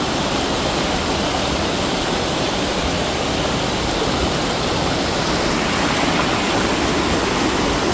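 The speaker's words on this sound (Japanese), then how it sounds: "これが武士の滝らしいです" Bushi waterfall and its river roar in a dense, unbroken wash of falling and rushing water, loud and close throughout.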